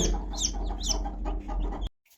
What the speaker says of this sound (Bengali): ব্রাহ্মা জাতের মুরগির বাচ্চা নিয়ে এসেছিলাম